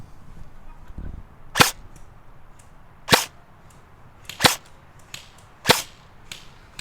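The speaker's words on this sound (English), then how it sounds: "Jody's now shooting ASG BREN with .36 ASG Precision BBs" Four sharp, crisp pops from an ASG BREN airsoft gun firing heavy .36 gram BBs, spaced roughly a second and a half apart against quiet background hiss.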